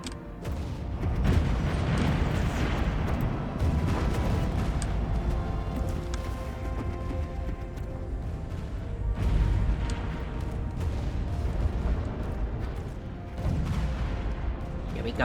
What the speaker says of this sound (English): Commence all the artillery firing.